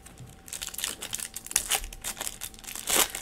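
Crinkly plastic wrapper of a 2024 Topps Spotlight trading card pack being torn open and handled, a close, busy run of crackling rustles with sharper bursts, no talk.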